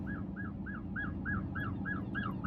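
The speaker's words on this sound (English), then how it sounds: "I'm hearing sirens." Repeating wailing emergency siren, each rising-falling sweep about every quarter second in a steady rhythm, heard at moderate distance over a constant low rumble of city background noise in Michigan.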